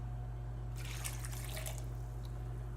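Water, three quarters of a cup, pours into a blender during food prep, a soft splashing trickle lasting about two seconds over a steady low hum, fairly faint.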